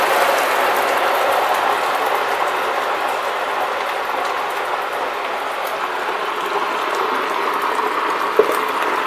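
Chicken wings cooking in hot oil give a steady, dense frying hiss that continues evenly throughout, with one brief tap near the end.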